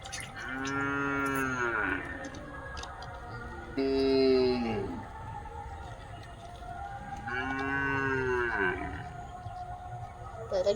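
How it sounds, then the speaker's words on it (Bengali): Cattle low and moo in several long, loud calls with gaps between them, outdoors during a storm. "গরুগুলো ডাকছে।"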